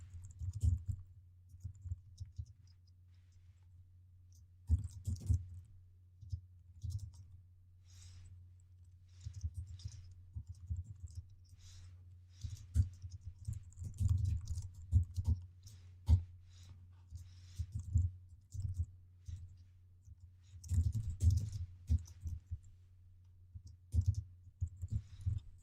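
Soft clicks and taps of someone typing code on a computer keyboard, coming in irregular bursts with short pauses, close and quiet against a faint low hum.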